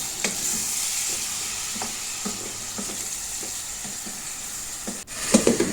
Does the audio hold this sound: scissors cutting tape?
no